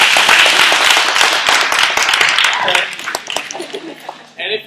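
A small audience at a wellness workshop claps in a quick burst of scattered hand claps that thins out over a few seconds, with voices mixed in.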